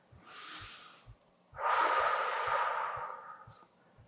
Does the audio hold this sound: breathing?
yes